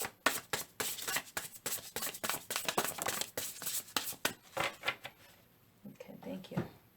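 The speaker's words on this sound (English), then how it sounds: "Last shuffle." Tarot cards are shuffled quickly, a dense run of crisp riffling and flicking snaps that thins out toward the end, with soft background noise.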